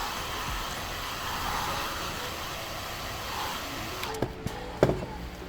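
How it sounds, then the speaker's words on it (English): A heat gun blows steadily on a Honda Civic EK headlight lens, a constant close airy whoosh with a few sharp clicks and knocks near the end. "Now that our lens is clean, we can heat it up once more with the heat gun."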